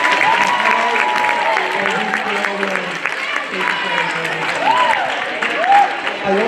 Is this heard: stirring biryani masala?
no